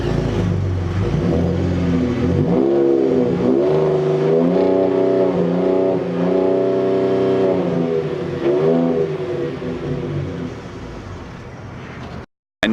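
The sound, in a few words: Ford F-150 Raptor truck engine revving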